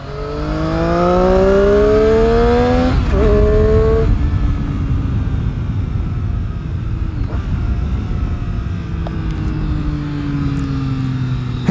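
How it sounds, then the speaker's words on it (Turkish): A 2018 Triumph Street Triple R three-cylinder motorcycle exhaust revs up loudly through the gears, with rising pitch sweeps and shifts, then settles into a steady engine note as the bike rides on, close by. "Bu egzozun ses olayı şöyle arkadaşlar."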